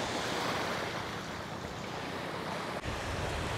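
Sea waves wash onto a shore of dark, non-white sand beside a fish terminal in Tanza, Cavite, a steady broadband surf roar with some wind buffeting the microphone and a brief dip near the end, no voices.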